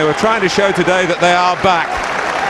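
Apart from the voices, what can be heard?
football stadium crowd applauding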